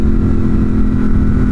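A 2018 Ducati Monster 1200 S with a 1200cc engine, aftermarket exhaust and tuner pulls hard on the throttle, a loud, close, continuous deep engine roar with no talking.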